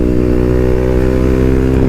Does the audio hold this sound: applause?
no